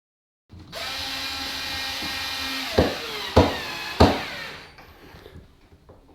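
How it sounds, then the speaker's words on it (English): A power screwdriver drives screws back into the door of a Zanussi ZOD580 oven, with a close, sustained whirring buzz followed by three sharp clicking knocks as the screws seat. "I just need to put the screws back in"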